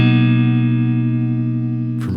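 A sustained electric guitar chord rings out through the Lemon Delay plugin from Acoustica, decaying slowly with repeating echoes before a brief new strum at the end.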